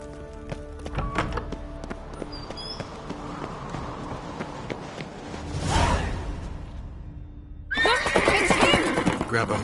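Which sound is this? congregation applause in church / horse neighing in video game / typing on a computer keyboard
horse neighing in video game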